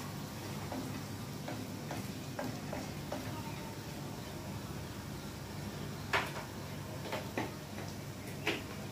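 Vegetables stirred in a frying pan while sautéing bitter gourd and string beans, with a steady low sizzle and scattered light utensil taps and scrapes, a few sharper clicks near the end.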